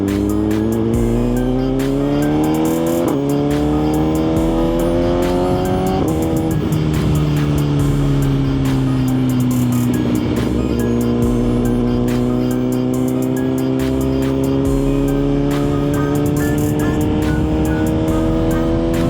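A Suzuki GSX-R1000 sport motorcycle riding down Highway 90, a loud, close engine whine climbing steadily through the gears with clear drops at each shift and a continuous wind roar underneath.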